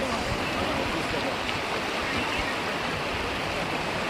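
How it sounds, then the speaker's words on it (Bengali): A strong river current rushes past near Rishikesh, a loud, constant broadband roar of churning water heard up close, with no break for the whole few seconds. "বিশাল স্রোত।"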